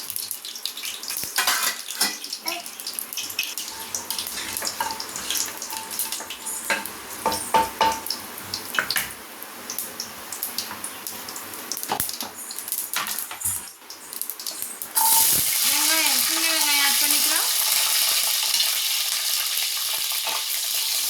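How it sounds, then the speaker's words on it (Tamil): Mustard seeds and fenugreek splutter and crackle in hot oil for a Tamil tamarind curry with ladyfinger and raw mango, a steady sizzle with scraping and stirring that turns into a louder, brighter fry toward the end. "எண்ணெய் சூடேறிடுச்சு. இதில் கடுகு, வெந்தயம் கொஞ்சம், இது பொரியட்டும்."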